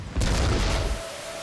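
A house blown apart by a huge explosion after being doused with accelerants: one sudden, loud, deep boom with a heavy low rumble that holds for most of a second and then fades, with no talk.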